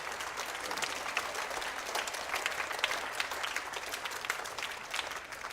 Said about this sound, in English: Would you give a round of applause to Sarah Kovas